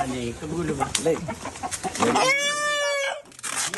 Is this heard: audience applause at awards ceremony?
no